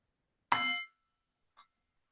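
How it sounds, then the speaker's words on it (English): A meditation gong is struck once, ringing out with a bright metallic clang that rings and fades over about half a second, followed by a faint, brief second tap. "I'm going to ring the gong"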